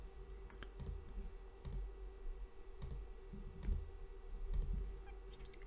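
A computer mouse clicks through options in KAMIN software settings, sharp isolated clicks coming in small pairs at an irregular pace over a faint steady hum.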